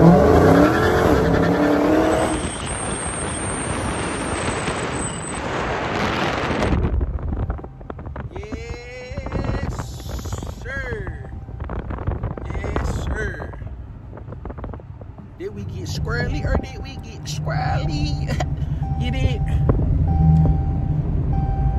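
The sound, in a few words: Dodge Hellcat car engine revving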